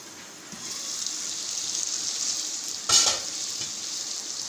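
Chicken tikka fries in a pan with a soft, continuous sizzle, joined by a brief sharper hiss and clatter midway, heard close and alone.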